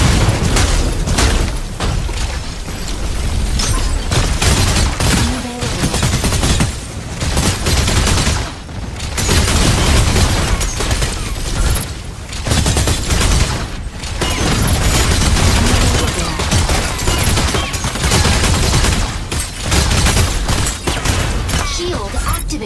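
Mecha Break combat with robots fills the scene with continuous heavy gunfire and booming explosions, loud and dense throughout, with short gaps between volleys and occasional game voice callouts layered on top.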